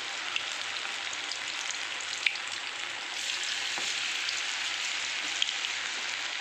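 Chicken pakodi pieces dropped one at a time into hot oil, frying with a steady, dense sizzle and occasional crackles and pops throughout, with no voices.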